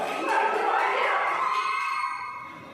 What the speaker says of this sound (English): The huge clap for these girls